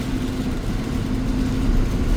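Interior of a 2011 articulated Nova Bus LFS in motion on a Montreal STM express route: a steady low engine drone with a faint hum, continuous and fairly loud, with no voices.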